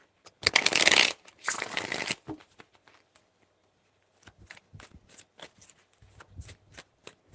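Tarot cards being shuffled close by, with a loud riffling burst followed by a second riffle, then a scatter of soft taps and card handling.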